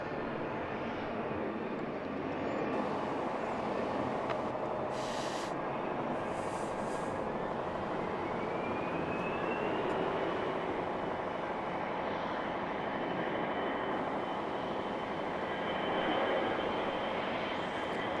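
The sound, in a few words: Air Canada Express Embraer 175 jet approaching airport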